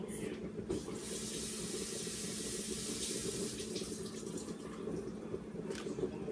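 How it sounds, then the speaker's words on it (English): Kitchen sink tap runs steadily while hands are washed beneath the stream, a continuous close hiss and splash holding for several seconds with slight changes as the hands move. "Then, to avoid any diseases, wash your hands."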